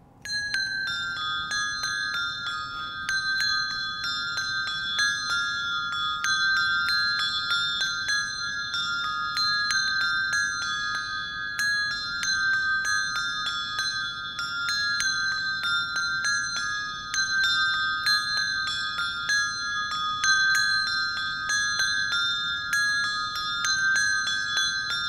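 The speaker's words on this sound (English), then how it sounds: "We'll ring the bells just a little bit faster this time" Church bells ring in change-ringing rounds, clear metallic strikes following one another in a quick, even rhythm, with no voices.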